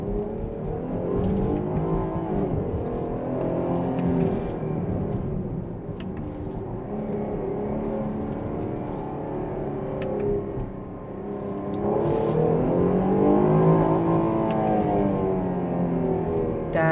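Engine of a 2021 Jeep Grand Cherokee L driven in sport mode, a continuous deep drone from inside the cabin that swells as the revs climb near the end.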